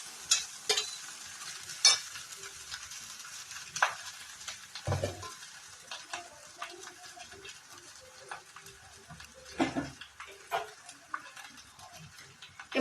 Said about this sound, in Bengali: আমি পুরো রাইসটাই দিয়ে দিলাম কড়াইতে আবারও।